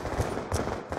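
Gunfire in an online video game, heard as three quick bursts of rapid popping shots spread across a moment, with a noisy backdrop.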